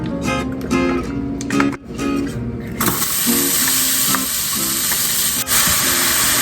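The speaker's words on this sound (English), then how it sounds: "You want to saute your onions until they're soft." Onions sauté in a pan for a beef mixture, a loud close sizzle that jumps to a bright, steady hiss partway through, with earlier clattering and tapping of utensils.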